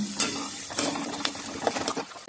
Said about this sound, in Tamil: பச்சை மிளகாய் வெங்காயமும் ஒரு முக்கால் அளவுக்கு நல்லா வதங்கி இருந்தால் தான் நல்லாயிருக்கும்